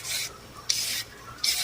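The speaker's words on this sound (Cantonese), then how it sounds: "450g 嘅紅蘿蔔推皮" A peeler scrapes the skin off 450 g of carrots in three quick, rasping strokes. Each stroke is close and fairly soft, with brief pauses between them.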